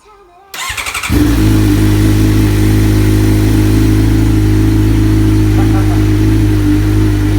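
A motorcycle engine cranks, catches after a second, and settles into a loud, steady idle close by.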